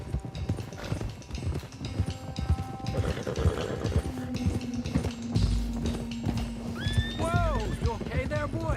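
Horses gallop with rapid clip-clop hoofbeats and a whinny in Red Dead Redemption 2, with a herd being driven toward Clemens Cove. The hooves run loudly throughout, and voices speak over them.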